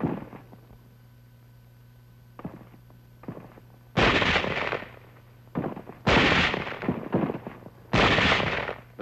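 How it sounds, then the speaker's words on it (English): Rifle shots from a sniper ring out during WWII combat, archival footage of the 38th Division moving over rough hill country. Several sharp, loud single reports land at irregular gaps, with fainter thuds between them. "Elements of the 38th Division moving inland over rough hill country run into some sniper fire."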